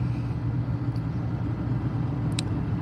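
A car interior with a steady low engine rumble and road drone while driving, continuous and close, with no talking.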